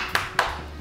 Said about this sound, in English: Are you clapping for us?